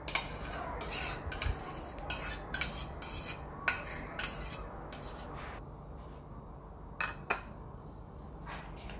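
A spoon clinks and scrapes against a bowl while yogurt is mixed with spices for Iftar, a run of sharp metallic taps and stirring rubs at close range with short pauses between.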